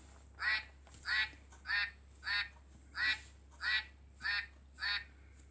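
A duck quacks eight times in a regular, evenly paced rhythm, each call loud and near, with only a faint steady hum in the background.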